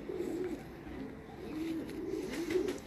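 Pigeons of one breed class cooing softly in repeated low, rolling calls against a quiet background hum.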